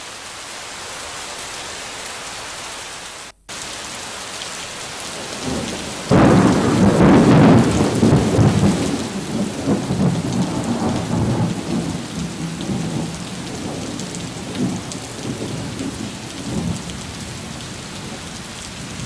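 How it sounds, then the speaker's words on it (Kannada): Heavy monsoon rain pours steadily in Mangaluru, with a loud roll of thunder breaking in partway through and rumbling on under the dense hiss of rainfall. "ಮಳೆ ಆಗ್ತಾ ಇದೆ."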